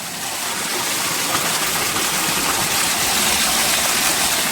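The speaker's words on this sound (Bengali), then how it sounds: "তো এইটা দেখতে পাচ্ছ, এটা একটা ছোট ঝর্ণা," A small mini waterfall at Srikona Waterfall pours as a constant, loud, close rushing of water with an even roar and no speech.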